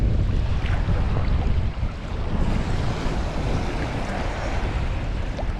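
Ocean waves at a beach where jet ski races are being held give a steady, loud roar of surf and rushing water mixed with wind buffeting on the microphone, with no clear voices.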